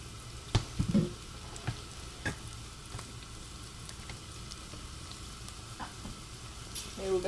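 Chili, onion and coriander stems frying in hot oil give a constant sizzle, broken by scattered scrapes and knocks of a utensil stirring them in the pan, close and without talk.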